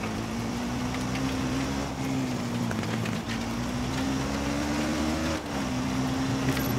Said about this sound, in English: I think I hear an engine.